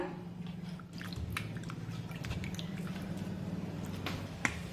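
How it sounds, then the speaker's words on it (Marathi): Sliced potatoes are rinsed by hand in a bowl of water, giving soft wet squishes, drips and small splashes throughout. The sound is quiet and close, with one sharp click near the end. "हे सर्व बटाट्यांचे काप आपण एक ते दोन वेळा पाण्याने स्वच्छ धुवून घेऊया"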